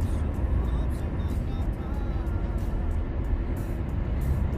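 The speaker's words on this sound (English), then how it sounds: "Ngayon lang naman ako pala nakasakay kaagad ulit ng taxi din." Steady low rumble of a taxi ride from inside the car, with constant road and engine noise filling the cabin and no talk.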